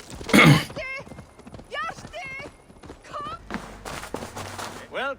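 Horse hooves clip-clopping in Assassin's Creed Valhalla, short irregular steps at close range, mixed with speech and a brief horse snort.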